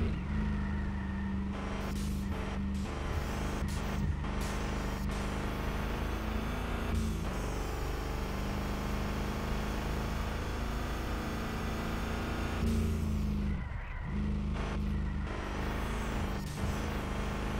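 In the Revhead racing video game, a race car engine drones loud and steady, with shifts in pitch as it changes gears on a tough track.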